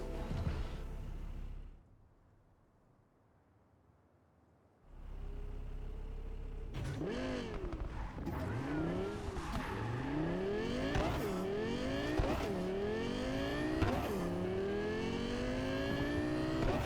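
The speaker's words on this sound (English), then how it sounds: "This is what a car sounds like." Car engine revving hard in Cyberpunk 2077, a quiet lull giving way to repeated rising, roaring throttle sweeps that climb and fall in pitch, loud and close, with no talking.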